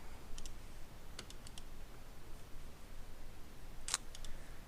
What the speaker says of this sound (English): Then type in my server IP